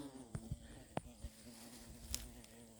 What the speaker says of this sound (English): Busy bees, lots of busy bees.